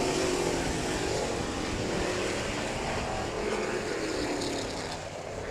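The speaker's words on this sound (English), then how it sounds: "3 laps to go for the number 4 machine, who capped himself about a 2-car length lead over the 6 of Chris Harmon" Figure-eight race cars roar around a speedway track at Showtime Speedway, a loud continuous engine drone that stays steady throughout with no speech.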